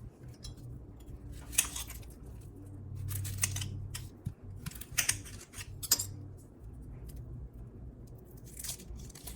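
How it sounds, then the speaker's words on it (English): A small yellow onion sliced with a knife on a cutting board, a series of crisp crunching cuts in irregular bursts over a low background hum, no voices. "I'm also going to slice a small yellow onion, and I'm going to saute it to get it softened and a little bit browned"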